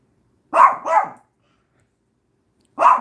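A dog barks twice in quick succession, then once more after a pause; loud, close and clear against silence.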